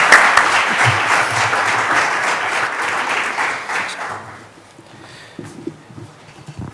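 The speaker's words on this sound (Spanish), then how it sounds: "le vamos a recibir con un aplauso en Burgos" An audience in Burgos applauds a speaker at a social conference on new technologies and disability. The clapping is dense and sustained for about four seconds, then fades out into a quiet room with a few stray sounds.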